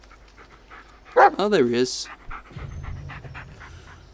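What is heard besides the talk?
dog panting in Blair Witch video game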